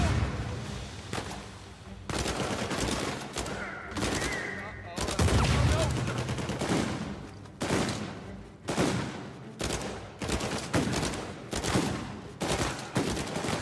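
Rapid, dense gunfire from shooting enemies in Uncharted 4 on Crushing difficulty: bursts of automatic and single shots overlapping continuously, loud and close throughout.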